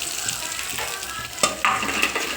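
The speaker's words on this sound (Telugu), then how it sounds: "అందులో కొంచెం ఆయిల్ వేసుకొని మనం ముందుగా కట్ చేసుకున్న ఉల్లిపాయ అండ్ పచ్చిమిర్చి ముక్కలు వేసుకోవాలి" Onion and green chilli pieces fry in oil on a medium flame, a close, steady sizzle with occasional stirring scrapes.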